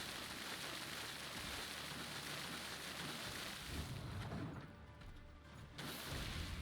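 Steady broadband rain effect from the card game Gwent, a continuous loud hiss of downpour with a brief dip and muffled low rumble midway before the wash returns at full strength.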